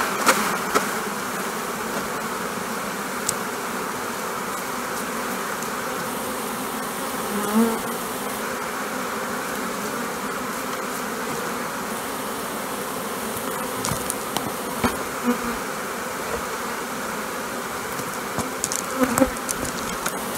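Honeybees buzz steadily around an opened hive while a beekeeper works the frames before wintering, a dense continuous drone close by with occasional louder passes of individual bees.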